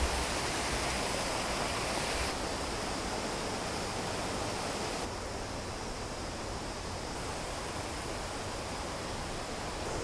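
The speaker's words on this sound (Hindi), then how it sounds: "यहाँ तो काफ़ी ज़्यादा पानी बह रहा है" Water rushes steadily down a mountain stream in the forest near a hilltop cave temple, a dense, continuous roar close by with no talk over it.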